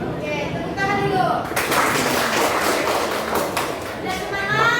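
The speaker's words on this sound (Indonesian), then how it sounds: "Oke, tepuk tangan dulu." Many hands clap together in a classroom, a dense, loud burst of applause that swells after a brief stretch of voices and carries on steadily to the end.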